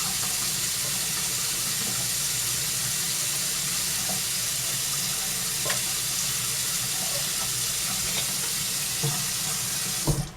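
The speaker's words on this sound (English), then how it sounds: "We're going to rinse out the pan because a wet pan keeps the rice from sticking." Tap water runs steadily into a cooking pan as it is rinsed out before rice is cooked, a continuous close hiss and splash of flowing water with faint clinks, lasting throughout.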